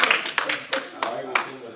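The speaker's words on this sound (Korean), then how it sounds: "박수 한번 쳐야 되겠네" Scattered audience clapping at a church academy lecture, a handful of sharp separate claps at uneven intervals rather than sustained applause, with a voice speaking over it.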